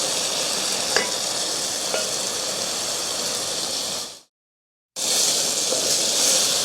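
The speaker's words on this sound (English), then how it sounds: "I'm just stirring this to make sure we got even distribution" Food sizzling and frying in a heavy, hot cast iron-style pan while being stirred to brown evenly, a steady dense hiss throughout with a couple of faint utensil scrapes and a brief total dropout near the end.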